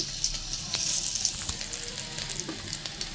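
Hot oil in a pressure cooker crackles and sizzles with sharp popping bursts as curry leaves and tempering spices hit it, continuous and close.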